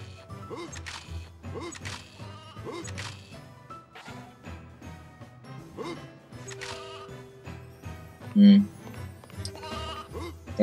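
Sheep bleats in the PS1 game Euro Demo 80, brief bleating calls heard amid game music and sound effects, with a few sharp knocks, fairly loud throughout.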